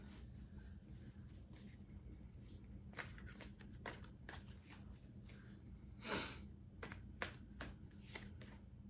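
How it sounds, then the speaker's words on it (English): Tarot cards are shuffled close up in a quiet room, producing a series of soft riffling flutters and crisp snaps spread over several seconds. "I'm going to pull one more card, and then I'm going to pull some oracles."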